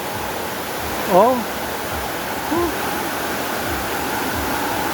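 Gabur Gabur Falls in Cagayan pours in a constant broad rush of water that fills the whole stretch, while a voice briefly exclaims partway through.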